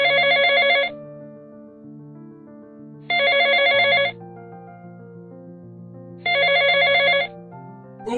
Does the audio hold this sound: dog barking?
no